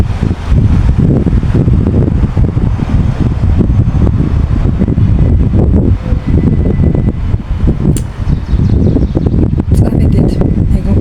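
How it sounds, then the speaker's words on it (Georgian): Strong wind buffeting an outdoor microphone, a loud continuous roar with rumbling gusts throughout, broken by a few faint sharp knocks. "ქარია, მაგრამ სასიამოვნო ქარია."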